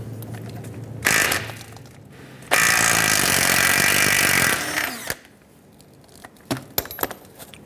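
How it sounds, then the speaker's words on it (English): A power tool with a 22mm socket whirs loudly in two bursts removing a tie rod nut on a 1995-2001 Ford Explorer, the second lasting a few seconds, followed by sharp metallic clinks and rattles as parts are handled nearby. "Using our 22mm socket, we're going to go ahead and remove this nut."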